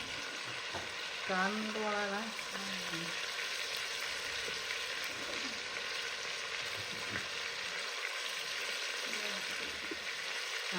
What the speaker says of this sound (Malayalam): ചിക്കൻ നല്ലോണം ഇതിലിട്ടിട്ടൊന്ന് ഹൈ ഫ്ലെയിമിൽ വെച്ചിട്ട് തന്നെ മിക്സ് ചെയ്ത് കൊടുക്കുന്നുണ്ട്